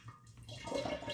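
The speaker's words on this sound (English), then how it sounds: "push the water out of the grain, through the sieve and the funnel into the demijohn" Water pressed with a spoon out of spent brewing grain for a porter, running through a sieve and funnel into a demijohn: a brief, faint wet trickle and slosh that swells toward the end.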